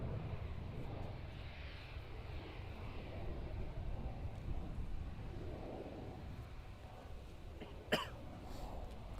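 A distant United Airlines Boeing 787-9 jet airliner at Amsterdam airport gives a faint, steady low engine roar that drifts through the quiet background, with a brief sharp cough close by near the end.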